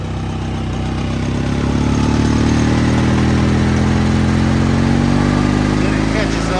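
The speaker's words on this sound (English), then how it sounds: "The engine kind of bogs down a bit." The Subaru engine of a 2007 EZGO golf cart, which is leaking oil from its crank vent, runs loud and close with a steady mechanical drone. Its pitch sags and labors, then slowly rises.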